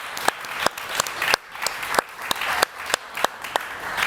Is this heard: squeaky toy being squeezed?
no